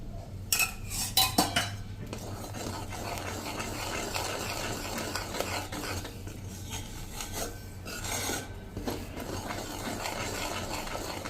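A spoon scrapes and rasps against a pan while bubbling jaggery syrup with ghee is stirred for sesame chikki. Sharp metallic scraping comes in bursts at the start and again later, with quieter, softer stirring in between and no voices.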